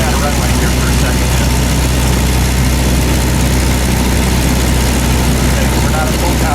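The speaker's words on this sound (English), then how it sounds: "We're just going to cruise down a runway here for a second." A light propeller aircraft taxis down a runway during a flight lesson, its engine producing a steady, loud low drone with broadband roar that holds constant throughout, with no voices heard.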